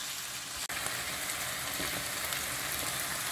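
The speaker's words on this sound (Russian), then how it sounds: "Все это хорошо перемешиваем и пару минут обжариваем." Seasoned ingredients for fried noodles fry in a pan with a steady, even sizzle close by, broken once by a short gap near the start, with no one speaking.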